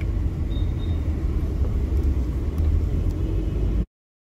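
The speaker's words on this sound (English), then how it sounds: "It's like very exhausting just coming through this traffic." Steady low rumble of road traffic with car engines, continuous and fairly loud throughout, then cutting off abruptly near the end.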